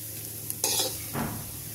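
Cashews, curry leaves, mustard seeds and green chillies hit hot oil for semolina upma, giving a short burst of sizzling with a stirring scrape, then a second smaller crackle before it settles into a low hiss.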